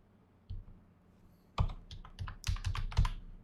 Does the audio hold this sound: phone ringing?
no